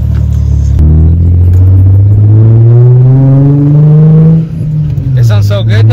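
Nissan G35 with a newly fitted VQ engine accelerating on a cruise, a loud, close engine note climbing steadily in pitch for several seconds before easing off and settling.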